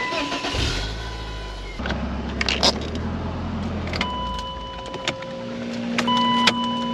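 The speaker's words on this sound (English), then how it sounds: "Cold start 1998 BMW Z3" Cold start of a 1998 BMW Z3 heard up close, a crank and the engine catching into a low, rough idle, with keys jangling and a brief whir and click around it.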